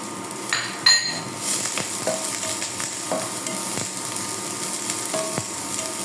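A spoon stirs onions and spring onions in a hot cooking pan, sizzling steadily, with scraping strokes and occasional metallic clinks against the pan throughout.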